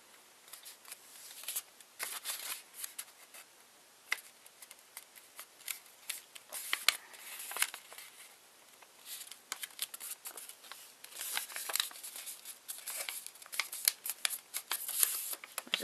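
Scissors snip through folded paper while a paper heart wreath is made, a quiet, irregular run of crisp cuts and rustles close by with short pauses between strokes, no voices.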